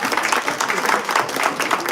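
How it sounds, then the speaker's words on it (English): At an annual labor awards event, an audience gives a brief round of applause for Publisher Tatum. The clapping is steady and broad but fairly short. "Please, a round of applause."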